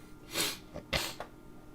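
Two quick, breathy sneezes close to the mic, the second one sharper, over a quiet background hum.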